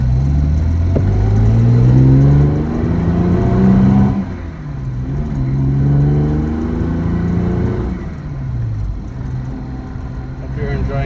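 A 1970 Jaguar E-type 4.2 liter Series 2 coupe engine pulls hard through the gears while driving, rising revs falling away at each shift, loud and close from the passenger seat.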